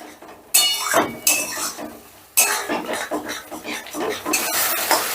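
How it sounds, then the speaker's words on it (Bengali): Spiced masala being stirred and fried in a pan over medium gas flame for a vegetarian aloo dum with mung dal, with repeated scraping strokes of a utensil against the metal, clinks and a steady sizzle, close and fairly loud. "এবার গ্যাসের আঁচটা মিডিয়ামে রেখে আমি মশলাটাকে বেশ ভালো করে কষে নেব।"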